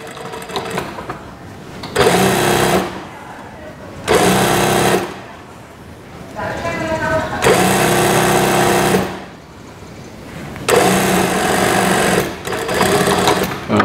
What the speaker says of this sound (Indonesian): saya jahit ulang lagi ya. Ini biar bagian pesak ini kuat